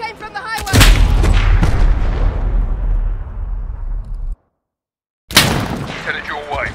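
Gunfire and explosions from the Call of Duty Modern Warfare video game, Highway of Death level: loud booming blasts and sharp shots with decaying rumble, a brief silent gap, then another burst.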